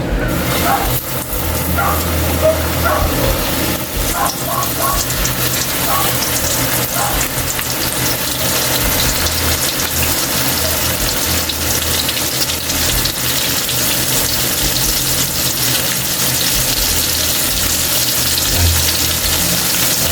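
Chicken pieces go into hot cooking oil and fry with a loud, steady, crackling sizzle that carries through the whole stretch without a break.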